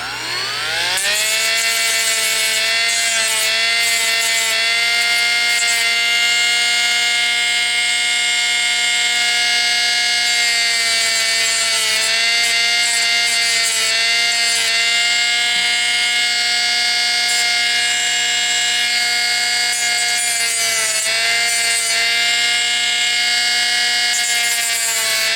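A high-pitched, continuous whine of a small rotary power tool shaving down a plastic Beyblade part, loud and steady throughout with slight pitch dips as the load changes, no talking.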